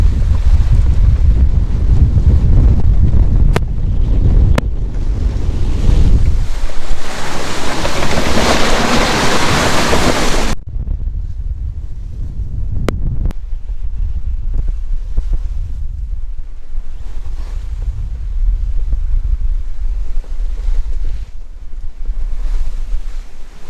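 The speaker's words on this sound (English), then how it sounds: "Calming down significantly, down to 23, 22 knots of wind." Loud wind buffets the microphone over rushing waves during a Caribbean squall on a sailing passage to Guadeloupe, a roaring wash that surges, then drops to a lower, gusty rumble as wind eases to 22-23 knots.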